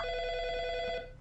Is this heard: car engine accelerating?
no